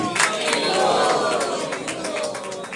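A crowd at a cultural center gathering cheers and shouts Haribol together in a loud, blended roar, with a few claps mixed into the sustained chorus of voices.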